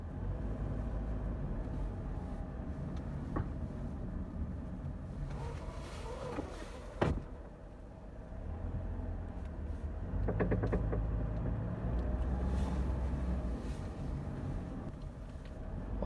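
A Toyota Corolla with a faulty left front drive axle makes a full U-turn on a test drive, giving a steady low cabin rumble with a few brief clicks and knocks partway through.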